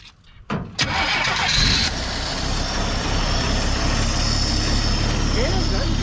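A 1973 Mercury Comet engine cranks briefly, then catches and settles into a loud, steady idle close by, with an early burst of revving.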